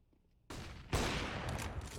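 A burst of rapid gunfire erupts in a Counter-Strike: Global Offensive match, sudden and loud after a quiet start, then a heavier blast flaring over continuing shots.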